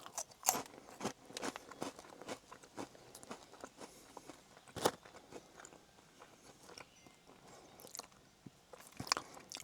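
Someone eats imported Ultraman Chicken & Steak flavoured Cheetos, with sharp, close crunches scattered between quieter bouts of chewing.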